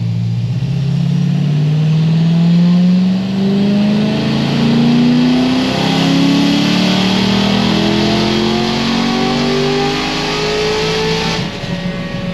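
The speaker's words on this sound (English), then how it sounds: "The exhaust is also rattling or doing something back there." A car engine revving hard at high speed with a rattling exhaust, a loud steady drone rising in pitch for several seconds with a rough buzzing rattle underneath, close and continuous.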